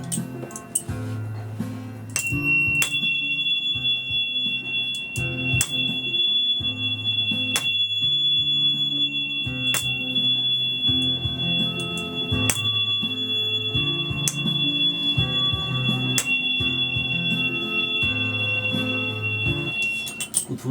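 A tuning fork pitched in F for Solfeggio sound healing rings as a sustained, pure high tone for most of the stretch. Soft low musical drones and recurring bright chime strikes sit beneath it, with no voices.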